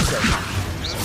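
A Levioso levitation spell cast in Hogwarts Legacy on PS5: a short, loud whooshing swish with a thudding impact, then a brief rising shimmer near the end, all within about a second.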